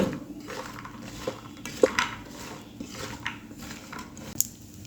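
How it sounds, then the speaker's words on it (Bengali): Pumpkin badi, lentil dumplings, being stirred and fried in oil left over from frying fish, heard as a soft background hiss with scattered clinks and scrapes of a utensil against the pan. The sound is close and no one speaks. "বড়িগুলোকে আমি নেড়ে চেড়ে ব্রাউন করে ভেজে নেব"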